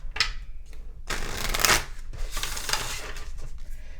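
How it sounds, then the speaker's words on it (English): A tarot deck is shuffled and cards are drawn, giving a few close, crisp papery riffles and flutters with short pauses between them, and no talk. "We're going to draw a card from my deck."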